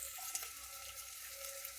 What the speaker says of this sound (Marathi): कांदा जरा आपण भाजू देऊ थोडासा.